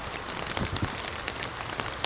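Steady rain patters onto a pond's surface during a snakehead fishing outing, a dense, even hiss of drops with a few louder splats scattered throughout, heard close and without any voices.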